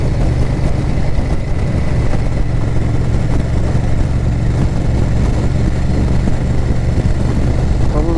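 A motorcycle rides along a road on a Sunday morning in the UK, its engine drone and wind rush loud and steady throughout, close to the microphone with no variation or talk.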